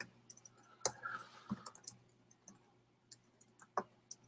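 Sparse, quiet clicks and taps on a computer keyboard during a late-night live coding session, a few isolated sharp keystrokes with pauses between them and no voice.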